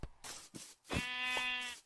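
A sheep bleats once in Minecraft, a long wavering cry rising out of a few short soft noises, close and fairly loud.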